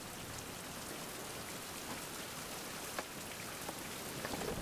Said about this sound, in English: Some more rain.